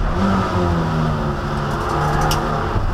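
Toyota MR2 race cars at Snetterton circuit, a continuous loud engine drone from several cars holding steady pitches as they run past together.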